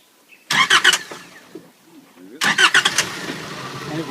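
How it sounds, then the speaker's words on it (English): Mitsubishi 4WD diesel engine cranking on a hill at a 4x4 park, two separate bursts of starter whirring a few seconds apart, the second catching into a running engine, close and loud with voices nearby. "just hit the ignition"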